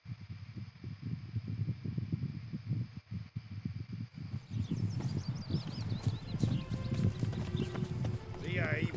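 A horse's hooves clip-clop steadily at a trot in The Witcher 3, a close, continuous rhythm of soft thuds running throughout, with voices and other game sounds layered over the later part.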